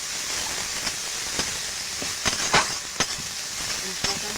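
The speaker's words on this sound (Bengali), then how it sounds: "নাড়াচাড়া করে একটু ভেজে নেব। ভেজে নিয়েছি, এবার দিয়ে দেবো আদা বাটা।" Ginger paste frying with onion and garlic in a pan for a pangas fish bhuna, giving a steady low hiss of sizzling oil with a few sharper spatters and stirring scrapes scattered through the clip.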